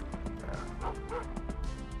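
A dog in the Rise of the Triad video game barks in quick yips and bow-wows over a steady game soundtrack, repeated several times across the short stretch.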